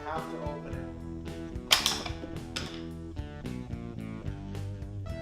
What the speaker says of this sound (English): An exploding outhouse.